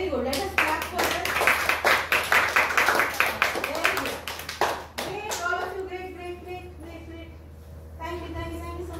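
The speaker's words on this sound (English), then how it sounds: "Let us clap for them." Children at a library storytelling session clap in a lively run of quick, uneven hand claps, close and fairly loud, with an adult voice speaking over and after them.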